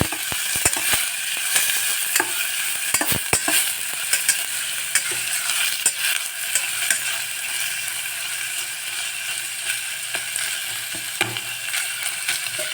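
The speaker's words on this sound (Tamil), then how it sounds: "இது வந்து வெங்காயம் ஓரளவுக்கு நல்லா வதங்கிட்டு" Onions sautéing in a pan for a millet pulao, a steady broad sizzle with scattered sharp clicks and scrapes of stirring throughout, close and continuous with no voices.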